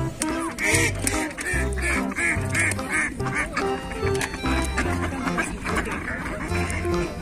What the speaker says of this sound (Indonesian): di sini ada bebek.